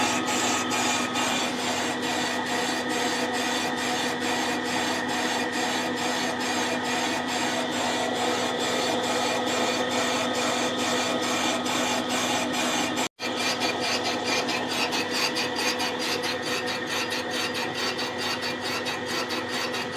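Boring bar cutting the cylinder of a Yamaha CT-3 engine, a steady, rapidly pulsing machining drone with a continuous tonal hum, broken only by one brief dropout.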